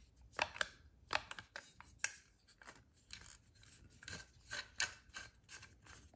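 Metal locking collar on a folding military trench shovel being screwed and turned by hand, a run of quiet scraping, ratcheting metal rasps in irregular bursts, close and faint with no talking.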